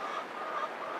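Layer hens in a winter tunnel house give off faint, soft clucking and fowl murmurs, a brief low chorus at a distance.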